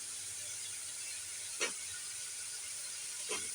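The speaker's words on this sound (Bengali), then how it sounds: "এখন আমি শুটকিগুলো দিয়ে দিলাম।" Dried fish tipped into hot oil in a pan while cooking a dried-fish and eggplant curry, giving a steady close hiss of sizzling with two brief louder bursts as pieces hit the oil.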